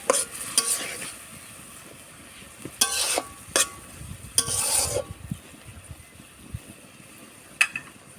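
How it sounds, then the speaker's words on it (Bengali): Pumpkin-leaf pitha filling sautéed in a pan, bursts of loud scraping and clattering stirring between quieter stretches of soft sizzle, close and without speech. "একটু ভালোভাবে কষিয়ে নেব।"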